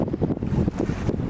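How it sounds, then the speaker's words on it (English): A sailboat under three sails with its engine off, heard as a steady rushing blend of wind buffeting the microphone and water washing past the hull, continuous and fairly loud. "The sound of sailing."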